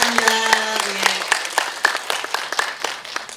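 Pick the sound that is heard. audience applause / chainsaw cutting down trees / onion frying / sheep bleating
audience applause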